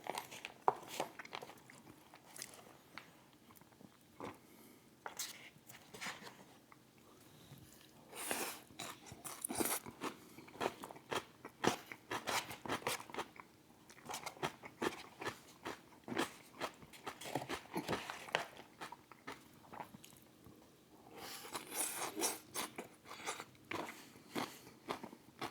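Slaw crunch with peanut shards is bitten and chewed close to the mic, giving repeated crisp crunches and crackles in irregular bursts over a long stretch, fairly quiet overall.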